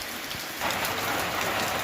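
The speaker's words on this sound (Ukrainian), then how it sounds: "І отакий йде в нас дощ." Steady rain falls on an autumn day in a rural village, a dense close hiss of drops spattering on surfaces that thickens after the first moment and keeps up without letup.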